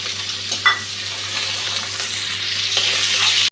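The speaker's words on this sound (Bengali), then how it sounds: "এখন পেঁয়াজ কুচি আর কাঁচা লঙ্কাটা দিয়ে দিচ্ছি।" Chopped onion and green chili fry in a pan with a bright, continuous sizzle, along with a few stirring scrapes and clicks, close by and with no talking.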